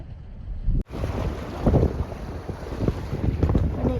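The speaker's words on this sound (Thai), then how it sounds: "ลมแรงคลื่นแรง" Strong wind buffets the microphone aboard a boat at sea while waves slosh and crash against the hull, a loud continuous roar after a brief dropout.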